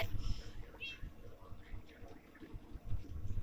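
A cat in the video game Minecraft meows in short, moderately loud calls over game background sound, with a faint voice talking at moments.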